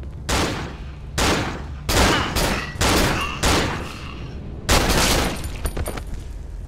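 Gunfire in the horror video game Cry of Fear, several loud separate bursts of shots in an irregular rhythm, each followed by brief ringing echoes, close and prominent with no talk.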